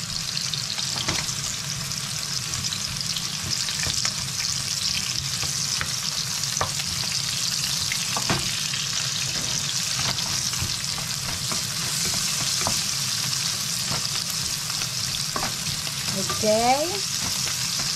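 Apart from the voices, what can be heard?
onion frying with ground meat in a pan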